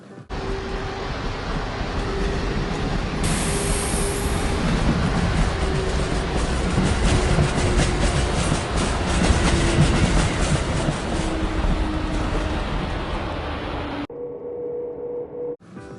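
A passenger train ride heard from aboard, a steady loud rumble with rhythmic clickety-clack of wheels over rail joints, continuous for most of the duration before cutting off near the end.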